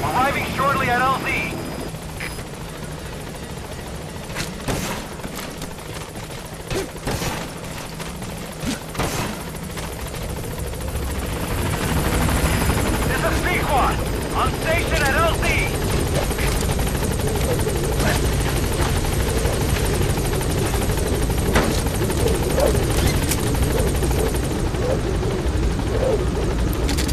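Helicopter arriving at a landing zone in Metal Gear Solid V, rotor thrum building from a steady background drone to a louder, closer roar, with radio-style voices talking over it early on.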